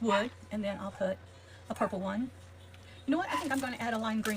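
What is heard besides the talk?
None of the usual background noises is heard.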